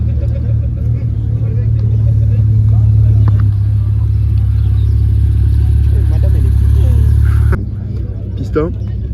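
A Lamborghini Diablo GT idles with a deep, steady, loud engine rumble that cuts out near the end, while people talk over it.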